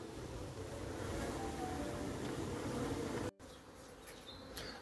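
Honeybees buzz around their hives at the end of winter, a dense continuous hum close by that drops away sharply after about three seconds, leaving a fainter drone with a few individual bees passing.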